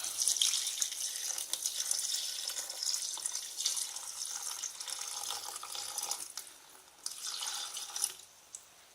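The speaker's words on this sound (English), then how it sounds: "we add 560 grams of water" Water pours steadily into a container on a kitchen scale up close for sourdough rye bread, a bright splashing hiss that briefly pauses and then resumes.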